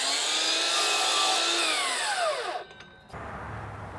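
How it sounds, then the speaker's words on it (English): A power miter saw cuts a 45 degree miter through nested colonial crown molding, a loud steady whine that drops in pitch as the blade slows, then cuts off abruptly into quiet. "I'm cutting this nested in the miter saw, and I'm just going to cut a 45 degree miter on this piece here."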